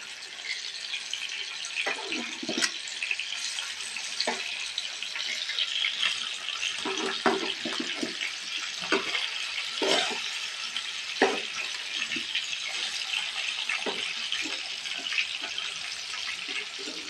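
Ribbonfish frying in hot oil, a steady crackling sizzle throughout with scattered sharper pops and spits, close and continuous with no talking.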